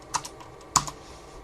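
Password keys are tapped on a computer keyboard, a few sparse, crisp clicks in two small clusters, close and isolated with no talk.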